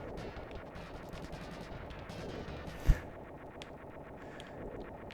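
Gunfire sounds from the SNES action game Operation Logic Bomb while shooting enemies, a steady stream of small rapid game shots with one sharper burst partway through, all fairly quiet.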